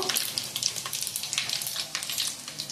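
Broken dried red chillies and a pinch of panch phoron crackle in hot oil, a close, steady sizzle full of small sharp pops and spits.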